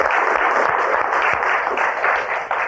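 Audience applause in a television courtroom, a steady burst of many hands clapping at close range, fairly loud and even, tapering slightly near the end.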